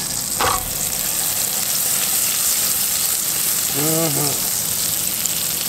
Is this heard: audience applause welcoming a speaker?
no